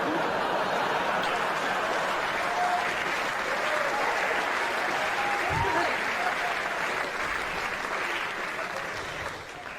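A studio audience claps steadily after a stand-up comedy joke, sustained applause filling the space with a few scattered chuckles mixed in, fading slightly toward the end.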